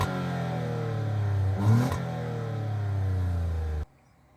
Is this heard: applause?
no